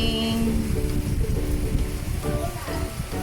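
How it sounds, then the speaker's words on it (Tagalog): Steady rain falls during a first downpour in Angono, Philippines, a dense continuous patter heard near and fairly loud throughout, with kitchen sounds from cooking faintly mixed in. "First rain."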